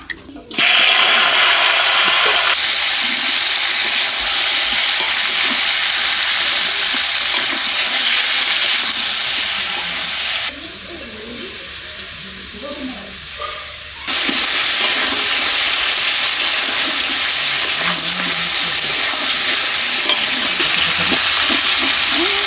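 Magur catfish pieces frying in oil in a pan, a loud, dense, continuous sizzle that briefly drops to a quieter patch mid-way before surging back, no talk.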